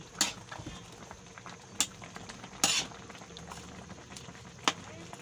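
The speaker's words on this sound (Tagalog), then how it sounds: "Tapos haluin." A spoon stirs meatball soup with miswa and patola in a pot, soft swirling liquid punctuated by several distinct metallic clinks against the pot's side at irregular intervals.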